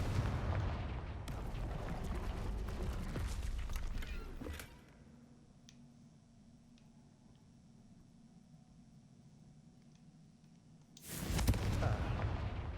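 A Confringo blasting spell in the Hogwarts Legacy video game sets off a loud, rumbling explosion with a long roaring tail, then a quieter stretch before a second heavy burst.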